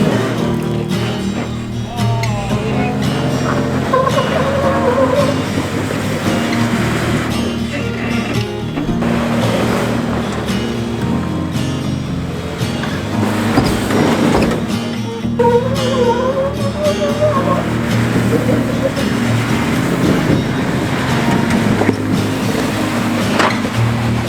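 A Jeep engine labors at low speed as the vehicle crawls over the Rocker Knocker rock obstacle in Pritchett Canyon, Moab, with a loud, steady rumble, revving surges and some muffled voices.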